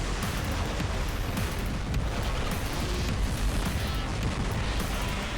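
Continuous heavy weapon fire and explosive blasts from robot combat in the video game War Robots, a dense, loud barrage of booms and bursts running without a break and with no talk.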